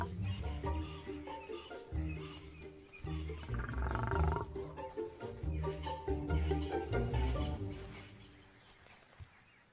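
Lions at a kill growl and roar in deep, rumbling bursts that overlap, loud and close, with faint bird chirps in the background before the roaring fades out at the end.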